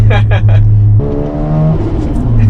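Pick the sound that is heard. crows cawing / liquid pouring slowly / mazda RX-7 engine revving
mazda RX-7 engine revving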